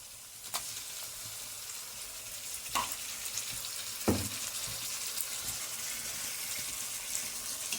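Onion frying in a pan gives a steady, fairly quiet sizzle throughout, with a few brief clinks and stirring scrapes along the way.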